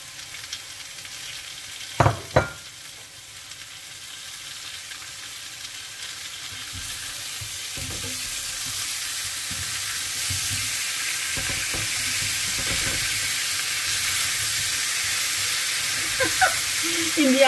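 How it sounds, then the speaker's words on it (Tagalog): Chicken sizzles and fries in a pan while being stirred, a steady broad hiss that gradually grows louder, with a couple of sharp utensil knocks near the start and occasional scraping. "We will mix in the chicken."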